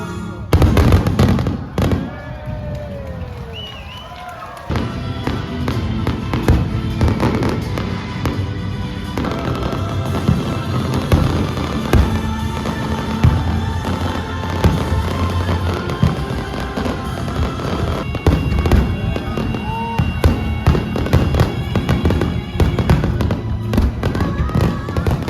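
Continuous fireworks display at the 68th Hakodate Port Festival fireworks show, Hokkaido, with dense, rapid bursts and crackling pops, loud and sustained throughout, after a brief quieter opening.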